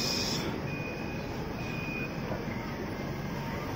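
Beijing subway Line 1 metro train riding toward Tiananmen West, a steady loud rumble of the carriage in motion with a faint high whine, continuous throughout with no talking.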